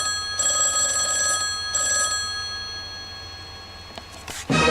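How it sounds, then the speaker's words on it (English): A telephone rings loudly in two long electronic bursts separated by a short gap, followed by a sharp clatter near the end. "we got a phone call."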